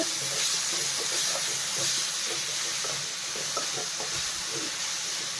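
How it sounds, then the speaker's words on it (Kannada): Capsicum frying in a covered pan gives off a dense, steady hiss of steam and sizzle, loud and close, with faint bubbling underneath. "ಕ್ಯಾಪ್ಸಿಕಮ್ ಎಲ್ಲ ಚೆನ್ನಾಗಿ ಫ್ರೈ ಆಗೋಗುತ್ತೆ"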